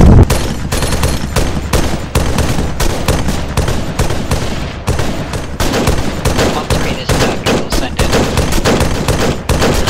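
Sustained heavy gunfire from rifles and machine guns crackles nonstop during a military field training exercise, with dense overlapping bursts that are loud and close throughout.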